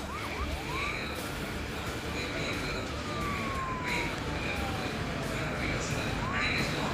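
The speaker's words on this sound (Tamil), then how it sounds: "ஆம்புலன்ஸ் வந்துட்டான்." An ambulance siren wails in the emergency dispatch video game Emergency HQ, with a long falling tone and repeated chirps under ongoing talk by players.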